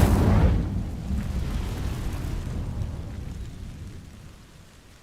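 Casting the Incendio fire spell in the video game Hogwarts Legacy gives a loud burst of fiery whoosh, a sharp boom that slowly fades into a rumbling crackle over several seconds, with no voices.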